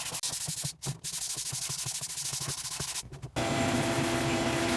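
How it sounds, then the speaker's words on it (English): Sanding a router-carved wood sign by hand with 220 grit sandpaper, close rhythmic rubbing strokes with brief pauses, ending in a steady whooshing hiss. "Alright, let's do a little quick 220 sand."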